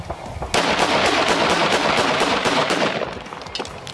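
Two 5.7 mm pistols fired akimbo at a range let off a rapid, loud string of close gunshots for about two and a half seconds, the cracks running together before stopping abruptly.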